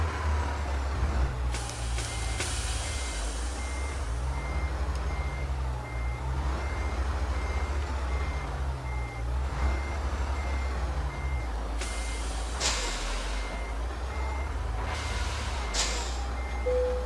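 A Ural 4320 truck reversing in Euro Truck Simulator 2, with a steady rhythmic reversing beeper over a low diesel engine rumble, occasional engine revs and hissing air-brake bursts, close and continuous.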